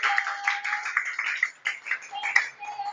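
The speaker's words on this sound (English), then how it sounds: "Let's give each one a round of applause." A class of students gives a round of applause in a classroom, a ragged run of many quick claps from several hands that keeps going steadily at moderate loudness.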